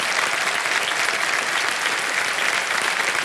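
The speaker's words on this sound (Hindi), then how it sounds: "तालियां बजती रहें सुधा जी के लिए" Steady, dense applause from a game show studio audience for a contestant, loud and even throughout with no voices standing out.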